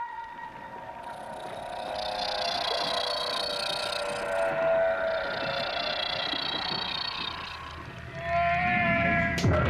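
Recorded whale calls played loudly through water to lure a basilosaurus, with long sustained tonal moans and rising whistles layered over a steady low rumble, continuous throughout and swelling near the end.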